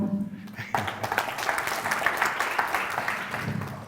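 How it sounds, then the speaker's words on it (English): A conference audience applauds in a steady wash of clapping that swells after a brief lull near the start, with voices mixed into the noise. "I think a round of applause should go to all of you."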